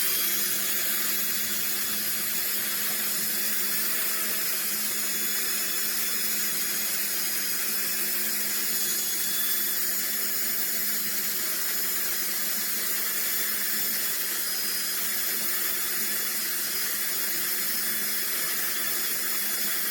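A rotary tool fitted with a diamond bit grinds a polymer clay pendant, giving a steady, continuous high-pitched whir with a constant motor hum that holds evenly throughout without pauses.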